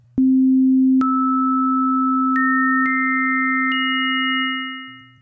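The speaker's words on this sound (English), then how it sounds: "If we first add a few harmonics, you can still sort of hear them individually." Pure steady sine tones stack up one at a time as harmonics, each new higher pitch joining the held low tone to form a sustained chord that fades out.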